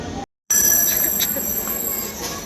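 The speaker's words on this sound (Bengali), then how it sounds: "তো এখন ট্রেন আসবে 2:26-এর ট্রেন আমার" A passenger train arriving at a station platform, a loud steady rumble with high metallic ringing and squealing tones after a brief dropout at the start.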